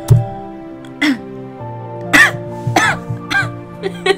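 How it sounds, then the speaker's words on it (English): A person coughs and clears their throat repeatedly in a series of short, harsh bursts close to the microphone, with a steady electronic hum underneath. "Actually made me cough, like..."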